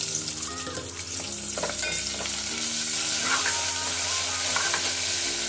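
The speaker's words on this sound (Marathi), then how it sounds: "आता आपण मस्त लालसर झाले मिरची लसूण ते आपण कढीपत्ता टाकतोय आता" Curry leaves hit hot oil already reddened with fried chilli and garlic for a dal tempering, giving a loud, steady close sizzle with crackling bursts and spoon stirring throughout, no voices.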